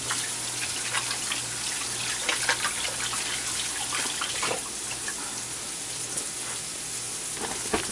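Water runs steadily from a kitchen tap as hands are washed, a close continuous splashing hiss with small irregular surges and spatters, no talking.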